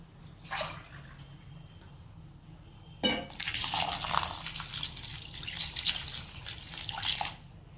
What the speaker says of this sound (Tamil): ரெண்டு கிளாஸ் தண்ணி ஊற்றிருக்கேன்.